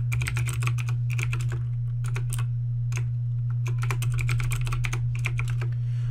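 Someone types a new password on a computer keyboard, bursts of quick, close key clicks with short pauses, over a steady low hum.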